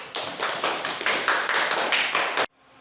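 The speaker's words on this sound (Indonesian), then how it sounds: "Kita berikan aplaus dulu untuk kelompok 1" A group in a classroom applauds after a presentation. The clapping is loud and close, with rapid overlapping claps that last a couple of seconds and then stop sharply.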